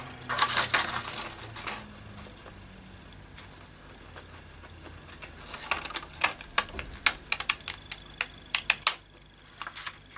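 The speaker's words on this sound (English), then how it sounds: "my zigzag scissors, cut that up there." Crisp snipping clicks from zigzag scissors cutting paper, sparse at first then a quick run of sharp cuts near the end, close and fairly quiet, no voices.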